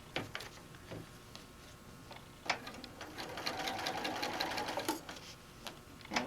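Sewing machine stitching fabric for a bag, a steady fast mechanical whirr carrying across several seconds with short ticking bursts at the start and clicks near the end, close and fairly quiet.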